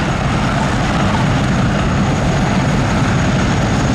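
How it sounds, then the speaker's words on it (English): An AgustaWestland Wildcat helicopter passes at an air show display, a loud, steady broadband roar of engine and rotor filling the air throughout without voices. "aircraft transiting rearwards"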